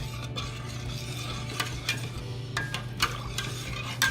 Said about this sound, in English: make sure you really stir this part so it doesn't stick to the bottom, so the sugar doesn't stick to the bottom